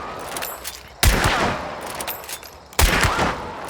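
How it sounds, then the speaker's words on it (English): Two heavy, sharp gunshots from a lever-action repeater rifle fired while aiming down sights on a shooting range in Hunt Showdown 1896, about two seconds apart, each with a booming tail. "This is our repeater. Look at the firing speed difference."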